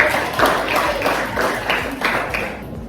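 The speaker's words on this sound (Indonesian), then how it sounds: "tepuk tangan untuk cerita yang dibuat" A class of students applauds after a story in an Indonesian school lesson, producing steady, moderately close clapping with regular pulses across the whole stretch and no talk over it.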